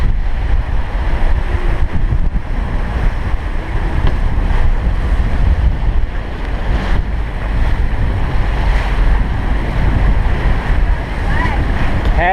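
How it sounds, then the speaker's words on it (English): Strong 30-knot wind roars across the microphone while waves wash and surge against a sailboat in the Caribbean between Dominica and Martinique, a loud, steady rush lasting throughout. "30 knots of wind."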